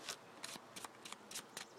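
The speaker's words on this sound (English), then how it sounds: "Or you can just, you know, shuffle it like that," A deck of sleeved Yu-Gi-Oh trading cards is shuffled by hand in quiet, quick riffling bursts about six times in under two seconds. The sound is soft and close, and nobody talks.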